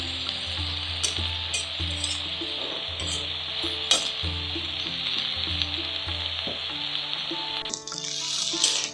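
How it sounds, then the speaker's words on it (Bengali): Mustard greens cooking with fish in a pan, a continuous close sizzle and bubbling with rhythmic stirring strokes and occasional utensil clinks, no talking. "একটু পরপর এভাবে আমরা নাড়তে থাকব এবং ভালোভাবে সেদ্ধ করে নিব"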